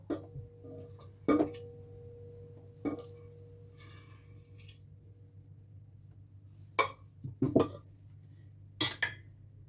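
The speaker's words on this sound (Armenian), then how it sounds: "խմորը արդեն հովացել է, տեղափոխում եմ խմորը միքսեր ամանի մեջ" Cooled dough is moved into a stand mixer bowl, giving scattered sharp metallic clanks and knocks of utensils against the bowl, separated by quieter scraping, with no voice.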